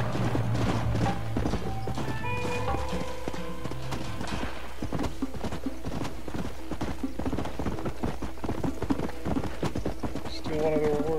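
Horse hooves clip-clop steadily at a trot in the Western video game Red Dead Redemption, rhythmic and clear beneath game dialogue and background music.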